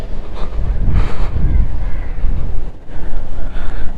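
Cool wind buffets the microphone while riding a motorbike on a daily ride, a loud, rough low rumble that surges and dips throughout with no clear speech.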